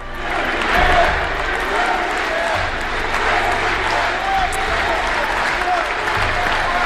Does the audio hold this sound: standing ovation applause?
yes